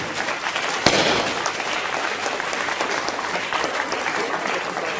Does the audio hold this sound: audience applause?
yes